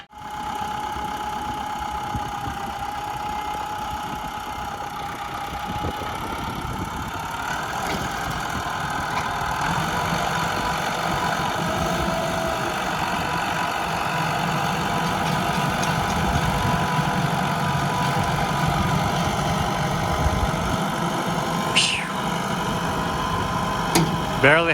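A broken-down tractor is dragged along by a John Deere tractor, its engine running with a steady, rough mid-pitched drone and knocking that builds slightly over time, with occasional faint clanks.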